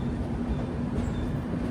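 Train rolling into Podanur Junction on the line from Pollachi, heard from inside a coach: a steady, low, even rumble of wheels and carriage with no talk.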